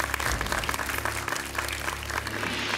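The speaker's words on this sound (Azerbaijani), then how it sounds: "bu dəfə 9 nəfəri biz alqışlayırıq" Studio audience at an Azerbaijani school quiz show breaks into steady applause, a dense wash of many hands clapping continuously for a few seconds with no speech over it.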